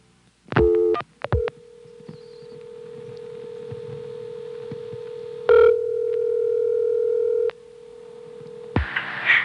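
Telephone exchange tone heard after dialing 1 on a 1976 Stromberg-Carlson ESC exchange in Chancellor, Virginia: a steady, loud single-pitch tone with a brief burst partway through, preceded by dialing clicks and followed by another click.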